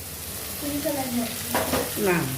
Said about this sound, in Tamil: கொஞ்சம் பச்சை வாசனை போகிற அளவுக்கு கொஞ்சம் வதக்கிக்கிடுவோம்